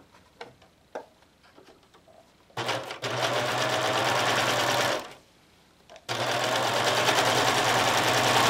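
A sewing machine stitches an armchair sewing caddy in two loud steady runs, separated by a short pause, after a stretch of soft clicks and handling noises.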